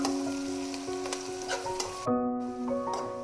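Chilli beef ingredients sizzle steadily in a pan with a few stirring scrapes and clinks, close and continuous, while a faint tonal hum runs underneath.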